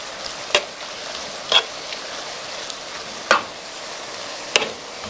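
Mushrooms stir-fry in butter with a faint steady sizzle, broken by four separate scraping clacks of a utensil against the pan.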